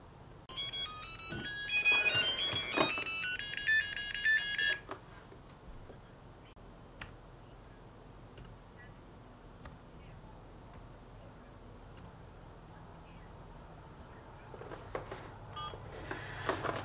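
A phone rings with a two-step verification call for signing in to a Samsung Chromebook: bright, bleeping tonal ringing for about four seconds, then a quiet room with only soft background noise.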